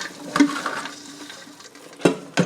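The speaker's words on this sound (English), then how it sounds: "give it a good stir" A spoon stirs broccoli cheddar soup in a pot, soft scraping and gentle liquid sloshing with a few sharper clinks against the pot, quiet and close.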